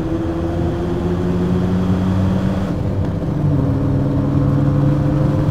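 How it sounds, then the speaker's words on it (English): A Veilside Mazda FD RX-7 with a rotary engine holds high revs near the limiter, a loud, steady, buzzing drone that shifts pitch slightly midway, heard close with no talking. "Foot to the floor. Like I said, these cars live on the rev limiter"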